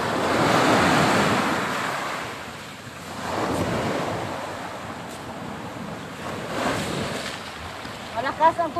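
Rough sea surf churns and crashes steadily, with heavy wind buffeting the microphone throughout.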